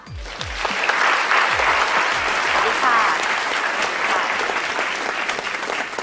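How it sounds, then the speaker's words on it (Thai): An audience on a Thai TV show breaks into sustained applause to welcome a police inspector as a guest, loud and dense throughout, with a woman's brief greeting over it at the start. "ขอเสียงปรบมือต้อนรับสารวัตรว่านรักศรัทธาค่ะ"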